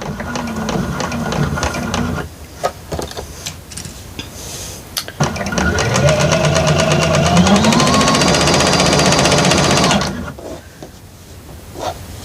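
Bernina sewing machine with a troublesome thread cutter, mechanical clatter and whirring that starts and stops, with a sustained run of several seconds rising in speed, loud and close.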